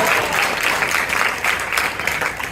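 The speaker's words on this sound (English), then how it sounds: "You can clap." A seated audience at a spiritual lecture on household life breaks into steady, continuous clapping, fairly loud and dense throughout.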